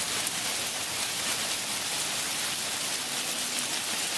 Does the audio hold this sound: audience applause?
no